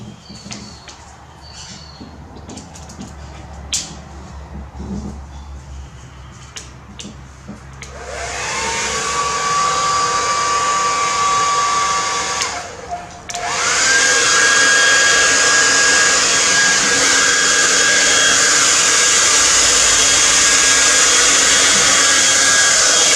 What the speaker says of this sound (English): Now, I have my hairdryer here